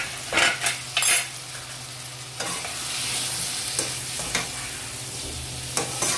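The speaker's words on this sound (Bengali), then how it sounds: "সবজিটাকে আমি ভালো করে মশলার সাথে ভেজে নেব।" Vegetables frying with spices in a pan sizzle steadily up close, broken by scraping and clinking as a utensil stirs against the metal, with several louder stirring knocks near the start and no talk.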